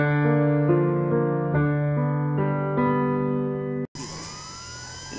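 A police car siren in the game GTA 5 sounds in loud, stepped electronic tones for several seconds, then cuts abruptly to a noisy burst with a rising whine.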